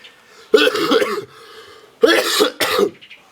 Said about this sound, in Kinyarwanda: Ni inkorora nayo nyene yadutse ibeye.